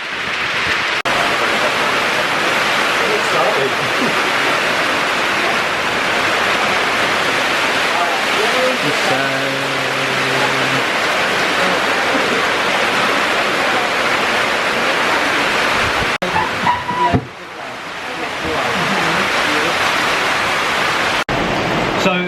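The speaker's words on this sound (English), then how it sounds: "this is the worst storm Bina and Prakesh, the owners, ever seen here" Heavy rain from Cyclone Vardah pours on Neil Island in the Andamans in a dense, steady hiss, loud and unbroken, with a few short sounds and faint voices underneath.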